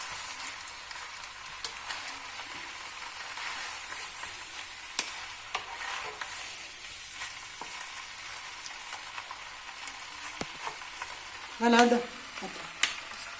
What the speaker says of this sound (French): ils sont sautés tous ensemble, tout ce qu'on a fait le mélange